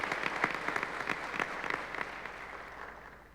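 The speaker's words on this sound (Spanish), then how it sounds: "Pido un fuerte aplauso para el maestro Juan Carlos Romero" Audience applause fills a hall at a national education meeting, a steady wash of many hands with individual claps standing out, loud at first and then gradually tapering off.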